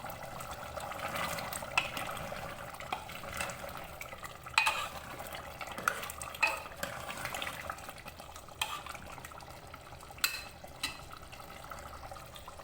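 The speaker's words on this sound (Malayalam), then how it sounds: "ഇത് നമുക്ക് ഇടയ്ക്കിടയ്ക്കൊന്ന് ഇളക്കി കൊടുക്കണം." Mutton curry for a Nawabi butter mutton simmers in a pot while it is stirred, giving a soft bubbling texture with intermittent spoon scrapes and light clinks.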